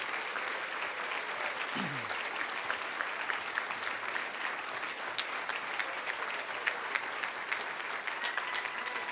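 Audience applause at a charity program event, steady dense clapping from a crowd sustained throughout at moderate level with a brief low vocal sound early on.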